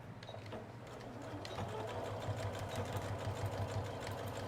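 A sewing machine runs steadily, stitching a seam on a fabric double pencil case, its even mechanical hum close and continuous with no talk over it.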